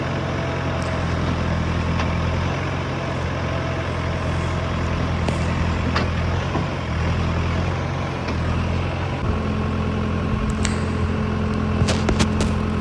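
A loud, steady engine drone with low rumbling hum as a vehicle climbs to the top of a hill at a beach resort work site, continuous throughout with no talking.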